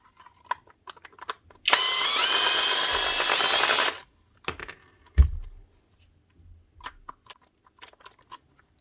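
Screws being driven out of a Bosch GOP 18V-28 cordless multi tool with a power driver, a loud whirring burst of about two seconds among small metallic clicks and knocks of parts being handled nearby.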